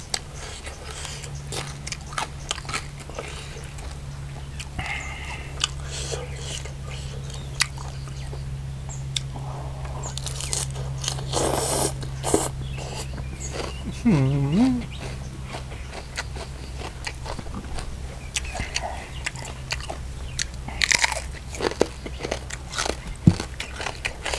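Som tam papaya salad with crispy pork is eaten out in a rice field: loud, close crunching bites and chewing repeat throughout, with a brief murmur partway through.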